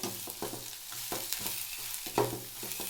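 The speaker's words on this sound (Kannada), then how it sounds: "ಈಗ ಚೆನ್ನಾಗಿ ಫ್ರೈ ಮಾಡ್ಕೋಬೇಕು" Chopped vegetables sizzle in a hot pan for egg rice while a spoon stirs them, giving a steady soft frying hiss punctuated by repeated scraping knocks of the utensil against the pan, close and fairly quiet.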